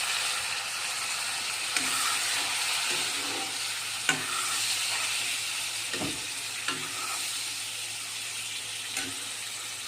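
Cumin sizzles in hot oil in a pan with a constant crackling hiss. A few sharp pops and utensil clicks are scattered through it.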